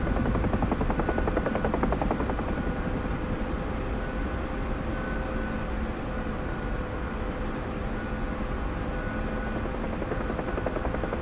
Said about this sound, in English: The Chinook's finally on the ground.